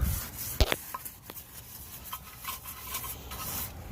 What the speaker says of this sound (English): just start brushing it. Just getting all that loose dirt and brake dust off